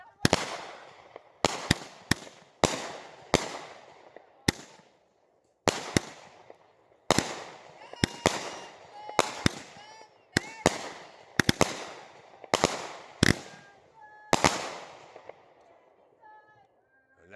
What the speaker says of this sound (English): that sums up the American Soul Firework Assortment by Magnus Fireworks